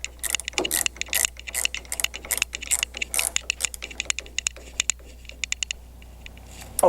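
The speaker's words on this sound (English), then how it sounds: "We'll get our wrench. Get this all tightened up." A wrench tightening parts of a Mustang steering kit, heard as a rapid run of close, sharp ratcheting clicks in quick irregular bursts that thin out toward the end.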